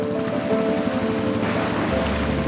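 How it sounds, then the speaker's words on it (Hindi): Sea water laps steadily on a soft sandy Andaman beach at sunrise with boats moored nearby, a continuous, fairly loud wash of surf with a faint low drone beneath. No one speaks. "सनराइज़ हो रहा है, बोट्स खड़ी है, पानी का आवाज़ आ रहा है"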